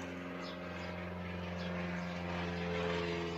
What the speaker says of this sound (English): Piss off, plane.